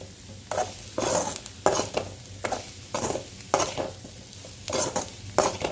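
Masala is stirred around in hot oil in a pan for green chana gravy, a spoon scraping in repeated rhythmic strokes about every half second over a low background sizzle, close and clear with no talk.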